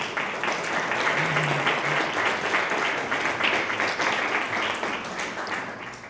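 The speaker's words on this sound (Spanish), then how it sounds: "Yo desde luego me sumo a estos aplausos tan merecidos" Steady, dense applause from a large audience, sustained at an even level throughout and gradually easing toward the end.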